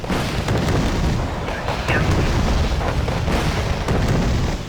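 Artillery barrage in the war strategy game Wargame: Red Dragon, a dense, continuous rumble of overlapping booms and blasts held loud throughout with no pauses, and a voice faintly present beneath the din.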